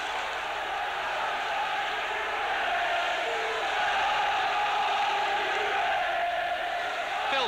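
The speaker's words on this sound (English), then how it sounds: "The crowd now really getting behind the home side." Home fans of Swindon Town roar steadily throughout a football match against Portsmouth, a dense sustained crowd din with no clear peaks or individual voices standing out.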